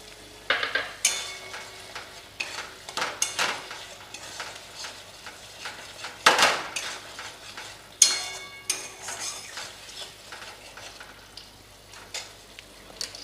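Onion and medium tomato slices frying in a pan with oil for a Bengali egg curry, with a spatula stirring and scraping in irregular bursts over a soft continuous sizzle, close and fairly quiet with no talking.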